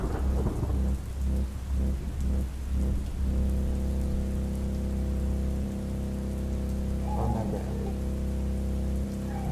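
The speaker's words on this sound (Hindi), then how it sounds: "ऊपर से इतनी तेज बारिश।" Heavy rain pours steadily and loudly, with a low rumble of thunder and a constant droning hum running beneath the downpour.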